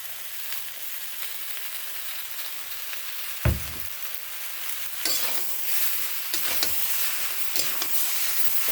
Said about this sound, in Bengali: ভালো করে মিশিয়ে নিচ্ছি, ভালো করে কষিয়ে নিচ্ছি।